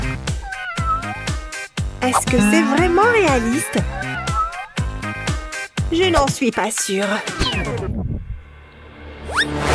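A small kitten meows several times in high, rising and falling cries, loud and close, while someone speaks over and between the calls.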